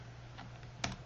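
A few soft keystrokes tap on a computer keyboard, faint and quick over a low steady hum.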